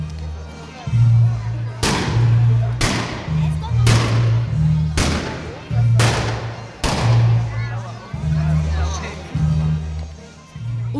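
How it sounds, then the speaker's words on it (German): Ceremonial Böller salute shots fired by a shooting club at a May tree festival on a town market square, six sharp booming blasts about a second apart, loud and near, with applause and talking underneath. "Dafür gibt es natürlich reichlichen Beifall und weitere Böllerschüsse vom Schützenverein."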